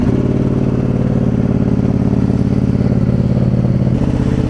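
A motorcycle out on a ride, its engine a loud, close, continuous drone with a rough, buzzy texture that holds steady and shifts slightly in tone near the end.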